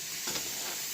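Food fries in a pan with a soft, even sizzle and a faint scrape of stirring, heard close and quiet.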